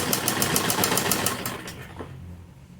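A sewing machine stitches fabric for a kurti in a loud, fast, rhythmic run that slows and fades toward the end.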